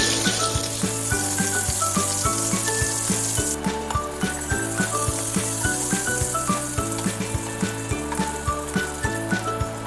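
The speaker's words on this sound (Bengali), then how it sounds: "এইভাবে উল্টে পাল্টে আমি পটলগুলোকে হালকা লাল করে ভেজে নেব।" Pointed gourd pieces fry steadily in hot oil, giving a constant sizzle while periodic clinks and scrapes from turning the pieces repeat throughout.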